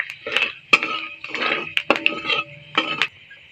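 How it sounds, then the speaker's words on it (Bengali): A utensil knocks and scrapes against a metal pan while panch phoron and bay leaves are stirred in hot oil, giving several distinct clattering strokes with a steady sizzle beneath. "তেলের উপরে পাঁচফোড়ন দিয়ে দেবো পাতা তেজপাতা পাঁচফোড়নটা একটু নেড়ে দেবো"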